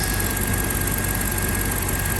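A BMW X5 E70 with the N62 V8 idles at operating temperature while its radiator fan spins, giving a steady, even engine drone with a constant whir and hiss layered over it, close and unbroken throughout.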